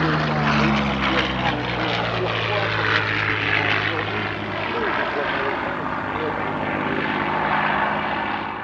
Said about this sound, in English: he's piloting an aircraft from the Amicale Jean-Baptiste Salis, a huge warbird collection